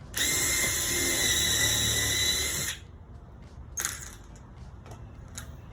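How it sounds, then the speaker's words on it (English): A power drill whines loudly for about three seconds while pre-drilling screw holes in a storm door jamb, then stops, followed by a few faint clicks and clatters of handling tools. "I'm actually gonna pre-drill these holes so that we don't get any cracking."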